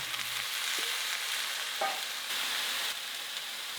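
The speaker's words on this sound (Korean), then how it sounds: "오일 기름팬에 다진 마늘 먼저 볶아 향을 낸 후 여기에 물기를 뺀 미역줄기를 넣고 함께 볶아주세요" Drained seaweed stems stir-fried with minced garlic in an oiled pan, a steady bright hiss of frying with a couple of soft scrapes and taps as they are tossed, close up and without speech.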